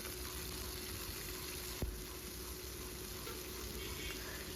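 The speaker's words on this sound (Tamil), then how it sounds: "சேர்த்துட்டு அதையும் நான் நல்லா வதக்கிக்கிறேன்" Curry leaves sautéing in a pan for a thogaiyal, a steady, dense sizzle throughout with one brief knock from stirring, close and with no talk.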